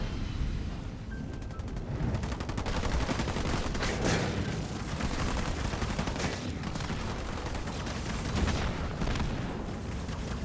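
Dense game combat from a Halo Wars 2 1v1 real-time strategy match, with continuous rapid gunfire and explosive bursts layered into a loud, unbroken battle din.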